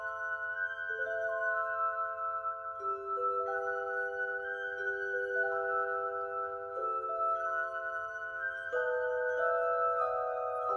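Glass chimes in the Genshin Impact Fontaine symphony music, clear bell-like sustained tones stepping through a slow melodic sequence, soft and even with a faint low hum beneath.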